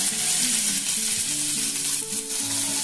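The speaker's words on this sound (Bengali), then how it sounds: "ওটার থেকে যদি একটুখানি হালকা ফ্রাই করে নেন এইভাবে তেল দিয়ে" Boiled potatoes lightly fry in oil in a pan with chaat masala, giving a steady close sizzle with faint stirring throughout and no voices.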